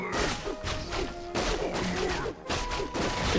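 A tavern building is destroyed in Warcraft 3, with a series of loud crashing impacts and thuds in bursts separated by short lulls, over steady game background noise.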